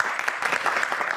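A concert audience claps continuously at an evening show in Gomel, Belarus, a dense, even wash of applause that holds steady at moderate loudness with no voices.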